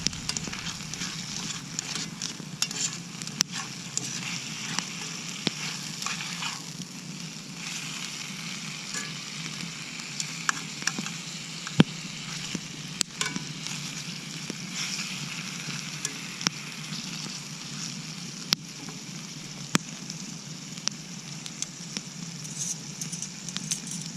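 Bacon sizzles and crackles loudly in a pan over an open fire, a continuous hiss dotted with sharp pops.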